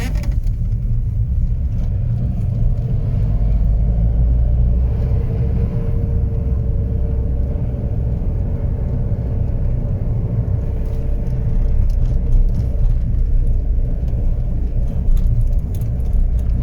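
A manual car pulls away and accelerates in first gear on a driving-test route, a low steady engine rumble with a faint rising tone, heard from inside the cabin without talk.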